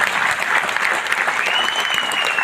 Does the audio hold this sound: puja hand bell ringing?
no